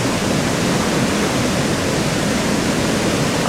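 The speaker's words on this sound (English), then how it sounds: "It's absolutely exciting just standing here, listening to the power and force of the water." Powerful rushing water of the River Blavet roars steadily at a bridge in the French countryside, a loud continuous broadband wash with no pauses and no voices.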